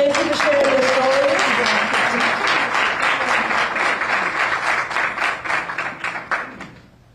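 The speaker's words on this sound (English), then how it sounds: "I just want to applaud all of our students" An audience at a community college tuition announcement breaks into applause: dense, loud clapping that thins into scattered individual claps before dying away, with a voice speaking briefly at the start.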